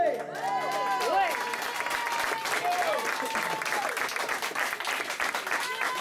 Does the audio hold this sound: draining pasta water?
no